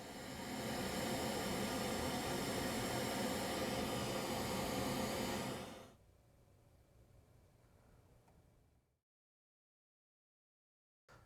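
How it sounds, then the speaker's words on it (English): Steady broadband pink noise test signal from a mixing console plays loudly, then drops to a quieter level and cuts to silence. "I should hear pink noise"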